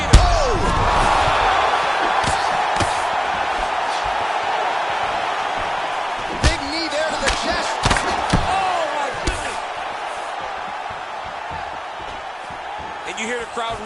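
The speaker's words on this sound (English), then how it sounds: "You hear the crowd react every time they come together" A crowd roaring in the UFC video game during a fight, a broad sustained arena murmur with sharp impact thuds and surges of reaction around the strikes, with a voice talking over parts of it.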